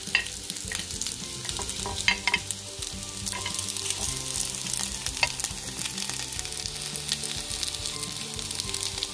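Rice ball made from leftover rice frying crispy in a pan, with a close, steady sizzle and bubbling crackle and occasional stirring scrapes throughout.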